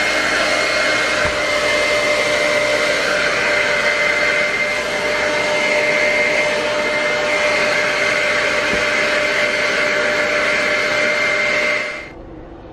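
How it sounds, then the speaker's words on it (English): A blow dryer runs continuously at a loud, steady whine for about twelve seconds, drying a stitched Christmas angel, then switches off abruptly. "we are going to cheat and use the blow dryer"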